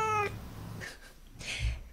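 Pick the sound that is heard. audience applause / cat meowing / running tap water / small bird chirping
cat meowing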